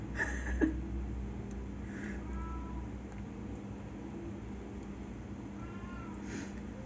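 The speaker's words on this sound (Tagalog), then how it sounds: "Ano ba yun? May pusa." A faint cat meows once or twice at a distance over a low steady hum, with no talking.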